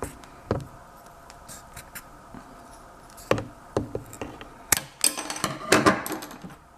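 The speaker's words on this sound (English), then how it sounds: "Dull scissors, I tell ya." Dull scissors cutting tape during a craft build of a toy revolver, a few sharp, scattered snips and clicks at close range, growing busier toward the end against a quiet background.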